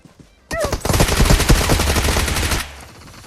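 Gunfire in PUBG Mobile: a loud, sustained burst of rapid automatic shots lasting about two seconds, with nobody talking during it.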